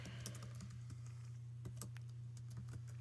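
Quiet, rapid key taps on a 2009 Dell Inspiron laptop keyboard as a root password is entered, irregular clicks over a steady low electrical hum.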